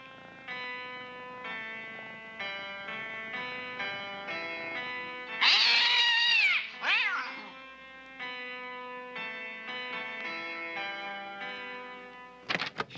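A cat meows twice in the middle, loud and close with rising, bending cries, set against a soft melodic musical backdrop that plays throughout.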